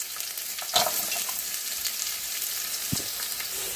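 Onions fry in a pan with curry leaves for a restaurant-style chicken mandi biryani, a continuous close sizzle broken by a couple of soft scrapes, with no voices.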